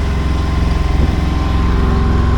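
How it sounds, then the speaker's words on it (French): A sailboat's small engine chugs steadily at close range, a continuous rhythmic putter with a droning hum, no talking. "On est toujours au moteur, comme on peut l'entendre."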